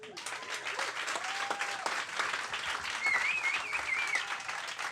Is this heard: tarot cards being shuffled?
no